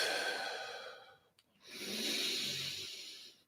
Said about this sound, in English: Breathe through that a few more times